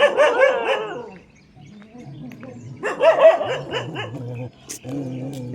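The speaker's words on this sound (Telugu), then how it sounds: "అదిగో అక్కడ కుక్కలు ఉన్నాయి" Several dogs bark and yip near a school ground beside a paddy field in the morning, with loud close bursts of barking and whimpering separated by brief quieter gaps.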